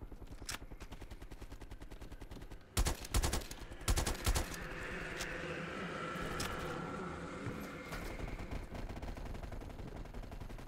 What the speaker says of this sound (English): What the hell are they shooting at over there?